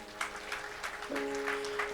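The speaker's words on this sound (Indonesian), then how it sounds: "Tepuk tangan dulu buat Tuhan." Congregation applauding in a church service, a soft, steady spread of clapping heard at a distance, with a sustained keyboard chord entering partway through.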